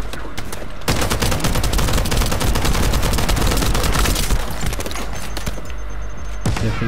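Dense, loud gunfire rattles almost continuously in The First Descendant video game as the player takes hits, rapid shots stacking into a sustained barrage for several seconds.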